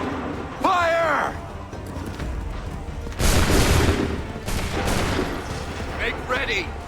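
A shouted command rises above the din of an Assassin's Creed 3 battle, then a line of muskets fires a volley. Loud, rolling bursts of massed gunfire follow, with a second crackling wave close behind and further calls over the noise.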